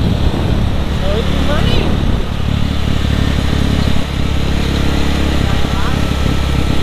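A motorcycle engine runs steadily at close range with a constant rumble while riding at night in Bandung, while people talk over it.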